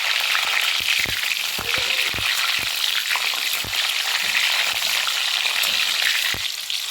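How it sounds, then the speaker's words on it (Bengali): Grapes fry loudly in hot oil in a pan over medium heat, a continuous close sizzle broken by scattered knocks of a spoon turning them. "আঁচটাকে মিডিয়ামে রেখে আমি আঙ্গুরগুলোকে এপাশ ওপাশ করে হালকা ভেজে নেব।"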